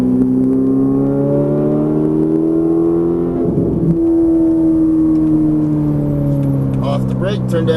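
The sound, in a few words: Ferrari 458 Italia engine accelerating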